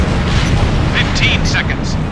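An AA gun explodes during an air combat mission in Ace Combat Infinity, a loud, continuous rumbling roar of blasts and engine noise with a few brief higher bursts layered on top.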